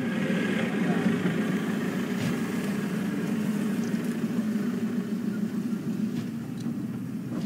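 A safari vehicle's engine rumbles steadily and grows slightly closer, a low continuous drone in the open bush with no speech over it.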